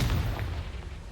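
A Confringo fire spell blast from the Hogwarts Legacy video game, a deep booming burst with a low rumble that fades over about a second, with no voices.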